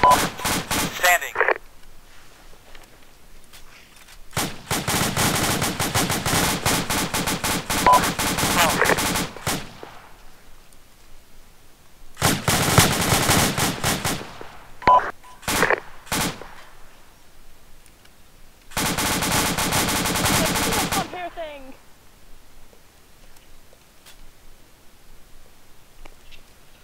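Long bursts of automatic rifle fire in ARMA 2 sound in several loud sustained volleys separated by pauses, with a few short isolated shots between them and no talk.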